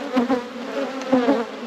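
Honeybees buzz close by during a spring hive inspection after winter, a steady wavering hum with individual bees swelling louder as they pass near.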